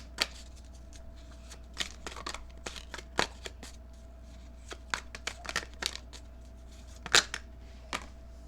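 Tarot cards are shuffled and drawn in a quiet room, a series of crisp riffling flicks and papery slaps coming in irregular bursts close to the mic over a low steady hum.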